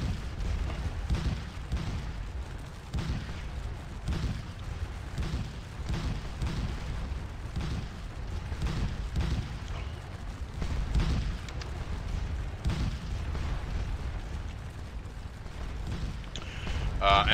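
Napoleonic artillery batteries fire near Hougoumont at Waterloo in the video game Scourge of War: Waterloo, a steady distant rumble of cannon booms under continuous battle din, with a voice talking throughout.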